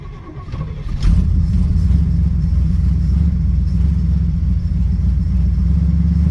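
A cold Chevelle V8 without a choke cranks briefly, fires up with a loud burst after about a second, and settles into a steady, deep, rumbling idle close to the microphone.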